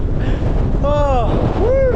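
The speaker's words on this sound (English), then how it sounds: "Incredible wind." Gale-force wind roars across the Langdales fells in the Lake District, a loud, steady buffeting rush, while a voice lets out a couple of excited exclamations.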